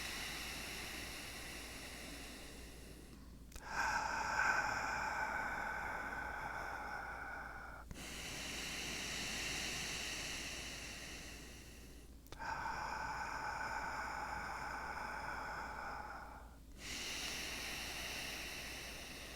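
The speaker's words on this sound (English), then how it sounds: "Exhale nostril." Slow breathing exercise: long, airy exhales through the nostril alternate with inhales, four or five soft close breath cycles of several seconds each, with no talk.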